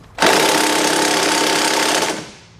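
A power tool with an 18mm socket removes a bumper bolt on a 2018 GMC Sierra 1500 truck, one loud sustained rattling burst of about two seconds that stops abruptly, close up with no talk.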